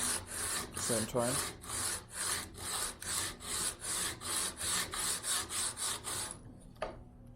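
A wooden acoustic guitar piece is sanded flat against plywood in steady back-and-forth strokes, about a dozen close, rhythmic rasping passes, with a brief spoken remark near the start.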